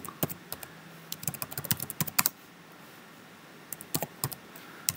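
Fast bursts of key clicks from a computer keyboard as dates are typed into an Excel spreadsheet, close and crisp, with short pauses between runs and no talking.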